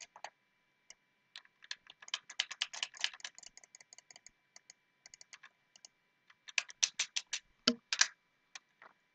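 Bursts of rapid key presses on a computer keyboard, crisp close clicks in uneven runs separated by short pauses, with no talking.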